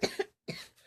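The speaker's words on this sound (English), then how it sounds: "Have a bit of a cough" A single person coughs twice in quick succession, then a third rougher cough after a brief pause, close and fairly quiet.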